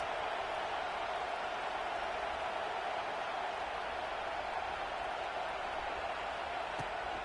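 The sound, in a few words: football stadium crowd roaring to help their defense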